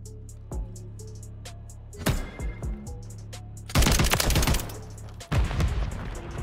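Rapid automatic gunfire from a Taq Evolvere rifle in the video game Modern Warfare 3, with a few short bursts and then a louder sustained volley of crisp, close shots.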